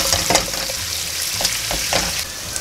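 Crushed garlic frying in oil in a pan, a steady close sizzle with a few light stirring scrapes.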